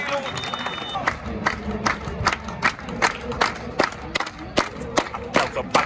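Fans in the stands at an Argentine football match between Flandria and Agropecuario clap in sharp, rhythmic unison. The loud, regular claps ring out over a murmuring crowd with some shouting voices.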